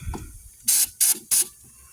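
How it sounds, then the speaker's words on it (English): Three short, sharp hissing bursts of cleaner sprayed onto the mass airflow sensor of a 2001 Ford E-250, evenly spaced, close and loud against a quiet background. "take your mass airflow sensor. I'm going to just spray it out."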